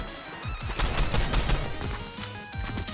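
Rapid gunfire in the battle-royale game Fortnite Reload, a close, loud string of repeated shots in quick bursts over about three seconds.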